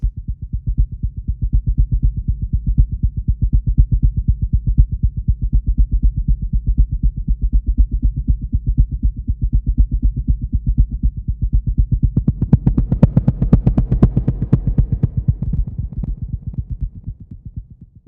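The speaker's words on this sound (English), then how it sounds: "We'll just go with heartbeat." A synthesized heartbeat pattern effect from the Galvanizer sound design plugin, a loud, steady, rapid low thumping pulse that gains a brighter, harsher texture near the end before fading slightly.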